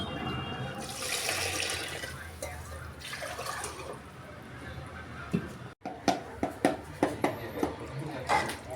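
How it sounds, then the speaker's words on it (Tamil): Water pours into rice in a pot for chicken biryani, a steady splashing rush for several seconds, followed by a series of sharp clicks and clatters. "இப்போ பார்த்தீங்கன்னா 1 கப் வாட்டர் ஆட் பண்ணுறோம்."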